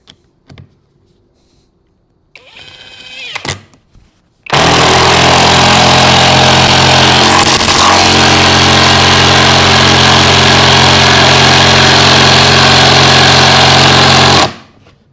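A power tool drives a large lag bolt into a fresh block of wood, starting with a short burst and then a loud, continuous whirring drone of about ten seconds that cuts off sharply.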